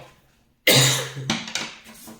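After a brief quiet, one sharp, loud cough breaks out nearby, followed by a few smaller rough coughs and throat sounds.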